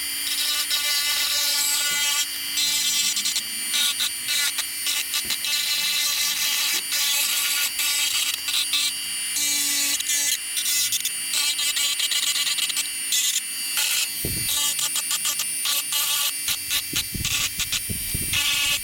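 Power tool cutting through a fan shroud during a 462 Maxy install on a small engine, a loud steady high-pitched whine and hiss running throughout with brief surges and dips near the end.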